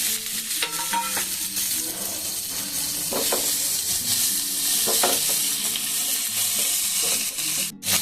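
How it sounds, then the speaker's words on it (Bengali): Fried paneer tips into a hot pan of spices, setting off a steady loud sizzle with scraping and clinking stirring strokes throughout, and a sharp knock near the end. "এখন দেব আমি ভেজে রাখা পনিরগুলোকে।"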